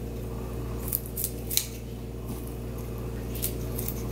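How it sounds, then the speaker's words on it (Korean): Scissors snip through blanched, drained hijiki seaweed in a home kitchen: a few sharp, close cuts at irregular intervals over a steady low background hum. "너무 긴 거는 가위로 조금 잘라줄게요."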